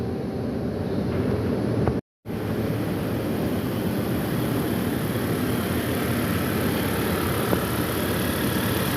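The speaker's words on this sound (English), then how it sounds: "Definitely a tensioner making a noise." Car engine idling with a bad, noisy belt tensioner, a loud, steady, continuous whirring drone with a brief dropout near the start, nearby and without talk.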